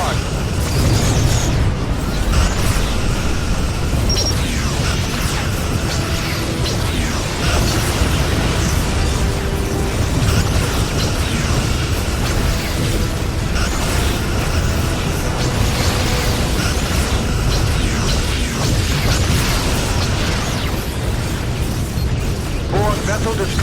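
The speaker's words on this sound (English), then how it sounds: "Borg vessel destroyed" Borg ship explosion in the space combat game Star Trek: Legacy, a dense, sustained rumble of bursts and booms running loud and continuous throughout, with mechanical clatter mixed in.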